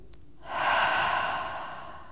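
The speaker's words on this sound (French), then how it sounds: "Une troisième fois, écoutez votre respiration." A person draws a long, steady breath in and out during a slow yin yoga session, the airy exhale swelling and fading over about two seconds, close and alone without talk.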